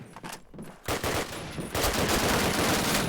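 Bursts of automatic gunfire during a competitive video game match, quieter scattered shots first, then a loud continuous volley of rapid fire that runs to the end.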